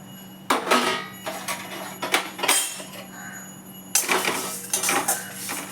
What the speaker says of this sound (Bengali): সাদা সর্ষে, ধনে, জিরে, জোয়ান, মৌরি নিয়ে এগুলো শুকনো খোলায় ভালো করে ভেজে আর গুঁড়িয়ে নেব